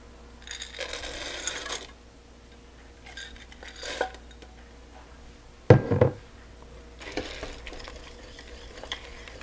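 Chocolate morsels being added to homemade fudge in a pan: scattered scraping and stirring sounds with a sharp clunk of a utensil against the pan partway through, all fairly close and without voices.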